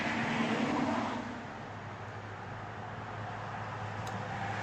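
Road traffic passing outside, a car whooshing by louder at first and fading after a second, then a low steady roadway hum continuing in the background.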